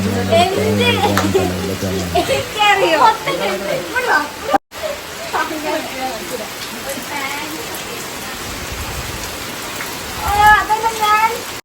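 Rain patters steadily in the background while people talk over it, the downpour filling the gaps between voices.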